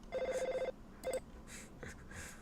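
A trilling electronic phone ring sounds from the video game Five Nights at Tubby-Land, one full ring then a brief clipped fragment, fairly quiet, followed by faint background noise.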